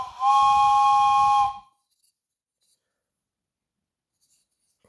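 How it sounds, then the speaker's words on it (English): A toy whistle gives one breathy, steam-train-like hoot lasting about a second and a half, followed by near silence. "Got a whistle that sounds like a steam train, I believe."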